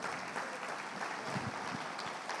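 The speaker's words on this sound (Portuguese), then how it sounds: "Quem pode aplaudir ao Senhor?" Church congregation applauds the Lord, a steady wash of clapping at moderate distance, fairly faint and continuous throughout.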